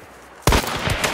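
A sudden loud gunshot in the video game Hunt: Showdown breaks a quiet lull, followed by a short burst of cracking reports and echoing rumble.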